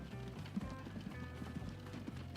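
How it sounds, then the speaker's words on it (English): Horse cart hooves clip-clop in the 1865-era video game Transport Fever, a steady rhythmic patter of soft hoof taps under a low rumbling background, moderately faint, with no speech. "we are going to buy another horse cart"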